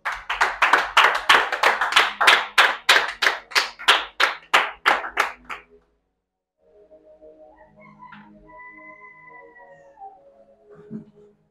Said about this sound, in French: Est-ce qu'on peut acclamer fortement au Seigneur?